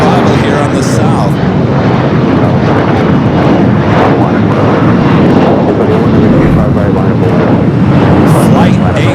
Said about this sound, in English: Air Tahiti Nui, the Dreamliner. Next heavy arrival here on the south.